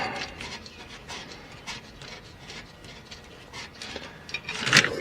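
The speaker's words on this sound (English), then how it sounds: "Now let's get the adjustment bracket bolt." A wrench clicks its ratchet repeatedly while working a generator adjustment bracket bolt on a 1938 Buick, a run of small mechanical ticks that ends in a sharper metallic clack.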